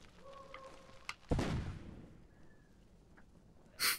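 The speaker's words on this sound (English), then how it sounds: "Oh, that was a really piss-poor explosion." A single booming blast from an explosion in the video game Zombi bursts out and decays over about a second amid quiet background sounds, followed later by a brief hissing burst.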